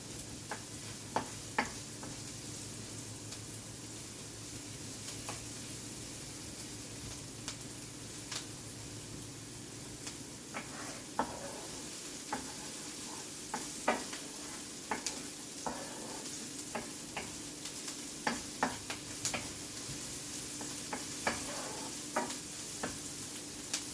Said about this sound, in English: We just want to drive some of the moisture off and soften these veggies and have their happy flavor start to come out.